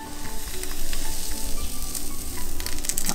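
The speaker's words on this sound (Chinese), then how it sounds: "底部已经有点微焦，我们就可以放鸡蛋了" Batter for a Taiwanese omelet sizzles steadily in a hot pan as egg is poured on top. The frying hiss is close and continuous, with no voices.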